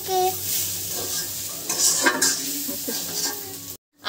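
Vegetables for homemade noodles hiss and sizzle in a pan while being stirred, with scrapes and light clatter close up; the sound cuts off briefly near the end.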